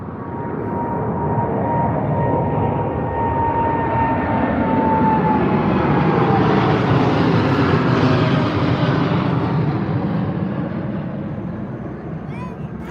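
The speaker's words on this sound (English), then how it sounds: "You can just see the shine of the aircraft of the fuselage as it takes off and rotates here." A jet airliner taking off at London Heathrow roars continuously, swelling to a loud peak mid-way before slowly easing off, while someone talks over the engine noise.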